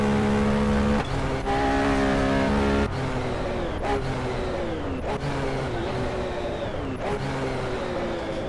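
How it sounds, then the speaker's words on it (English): Race car with a Type 912 flat-12 engine at Daytona International Speedway, 1970 24 Hours, roars loud and close. The engine climbs through several sharp gear changes, its pitch dropping briefly at each shift. "unleash the 912 type flat 12. Oh, listen to this thing roar."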